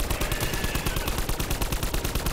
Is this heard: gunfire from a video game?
yes